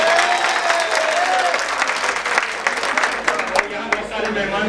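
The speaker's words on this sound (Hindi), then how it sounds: "सिर्फ उनके लिए ही ताली ना बजाएं, मेरे लिए भी एक बार बजा दूं।" An audience at an All India Congress Social Organisation event breaks into sustained clapping, a dense, lively wash of many hands filling the room, with voices mixed faintly underneath.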